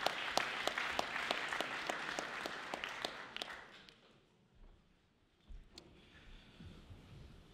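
Hall audience at a French national debate contest bursts into brisk, steady applause that fades out after a few seconds, leaving quiet room noise and a faint thump or two.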